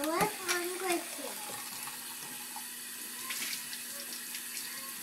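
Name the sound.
water running while a child washes dishes in sink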